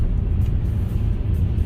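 A car drives through Moscow during a heavy snowstorm, giving a steady, loud low rumble of engine and road noise heard from inside the cabin, with no talk.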